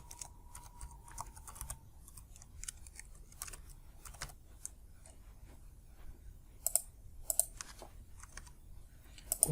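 Quiet, close clicks of a computer keyboard as an SQL query is typed, in uneven bursts of keystrokes with short pauses, no talking.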